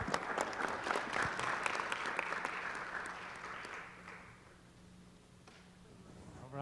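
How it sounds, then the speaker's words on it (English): Council chamber audience applauding a Salvation Army shelter volunteer: dense, steady clapping for about four seconds that fades out, leaving quiet room tone, with a little noise returning at the end. "Let's give Vincent a big round of applause."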